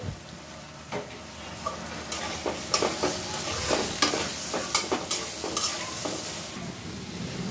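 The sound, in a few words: potatoes frying in a pan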